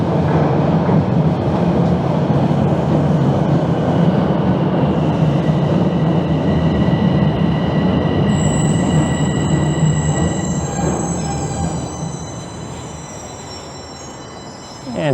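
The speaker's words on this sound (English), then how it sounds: "Sounds like a southbound train is rolling in." A southbound subway train rolls into Yorkdale station in Toronto, a loud steady rumble of wheels on track with rising high squeals of braking wheels as it slows toward the platform.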